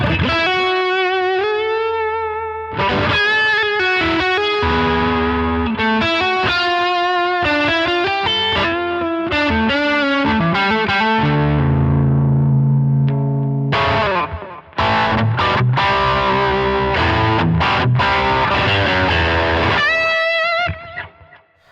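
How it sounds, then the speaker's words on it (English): Overdriven electric guitar through a Line 6 HX Stomp XL plays loud, sustained chords and riffs with a gritty, saturated tone, pausing briefly and ringing out at the end. "Add an overdrive, get rid of the flanger."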